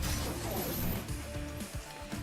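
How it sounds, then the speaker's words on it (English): A weapon smashes down hard in a Fate/Stay Night game scene, a loud crashing impact at the outset followed by a few lighter thuds and rumbling game sound. "She smashes down, striking with all her might."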